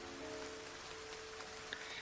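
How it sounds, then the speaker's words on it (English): Drizzling rain and a gentle wind outside a window make a soft, steady wash of hiss that stays even and faint throughout, with no voices. "Outside the window, the gentle whisper of drizzling rain and the soft carols of the wind can be heard."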